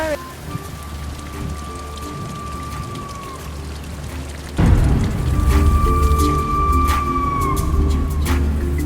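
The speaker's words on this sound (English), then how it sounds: "It's raining, it's pouring" A torrential downpour of rain pours steadily, a loud, dense, continuous hiss that grows heavier midway, with a faint siren-like tone drifting in the background.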